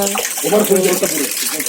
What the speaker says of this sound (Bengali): পাম্পটা ওভারলোড হয়ে গেছে জলটা পড়ছে